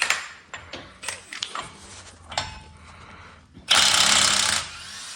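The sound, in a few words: impact gun loosening Ram Promaster 46mm axle nut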